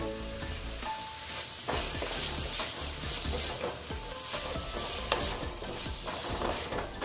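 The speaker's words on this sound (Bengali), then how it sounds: "এবার আমি আলুগুলো দিয়ে দিচ্ছি।" Potatoes frying in a spice masala in a pan: a dense, continuous sizzle with stirring scrapes and occasional clicks, steady and close, with no voices.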